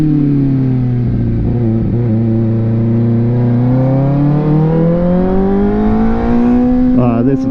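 A Kawasaki ZX4RR 400 motorcycle engine revving, a smooth high-pitched buzzing drone that dips and climbs steadily, loud and close, ending with a quick blip.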